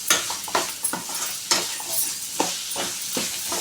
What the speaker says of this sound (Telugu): అలా బాగా అంతా పట్టేలాగా కలుపుకోవాలి